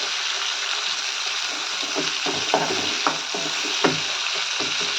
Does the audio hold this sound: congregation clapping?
no